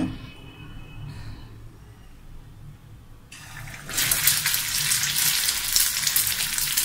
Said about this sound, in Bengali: এখন আমি এই তেলের মধ্যে আমার টিকিয়াগুলা ভেজে তুলব।